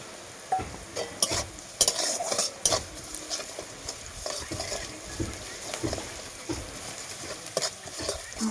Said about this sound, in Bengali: গোটা গরম মশলা দিয়ে একটু নেড়ে চেড়ে নেবো